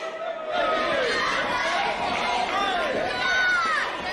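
A wrestling crowd jeers and murmurs at a veteran wrestler in the ring, a steady, fairly loud babble of many voices that swells and stays busy.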